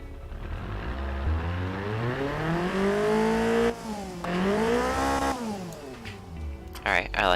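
A 1980s rally hatchback built in the car-design game Automation revs hard toward about 8,200 rpm, its engine pitch sweeping up and down in loud, rising and falling surges.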